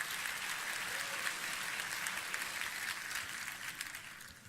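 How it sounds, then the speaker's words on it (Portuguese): A church congregation applauds steadily, a dense, even wash of clapping from many hands that holds for a few seconds. "Pode aplaudir o Senhor, pode aplaudir."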